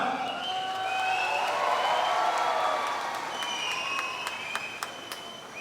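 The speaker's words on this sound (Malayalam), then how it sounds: "A round of applause for this great artist, the extremely talented Nivin Pauly to Thrissur Magic FC right now" A crowd at a Thrissur Magic FC football club event applauds actor Nivin Pauly, sustained clapping at moderate level under lingering tonal music or electronic sounds that fade as the applause tapers off.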